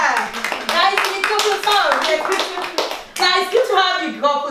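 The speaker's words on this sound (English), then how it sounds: "can we give a round of applause, guys?" A studio audience on a Dublin TV talk show claps to welcome a family, the clapping running under lively talk from the host and others.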